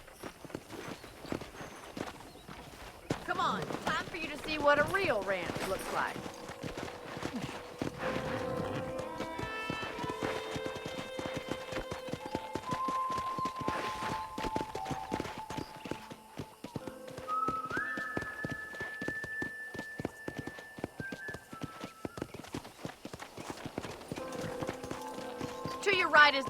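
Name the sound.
horse hooves galloping in video game Red Dead Redemption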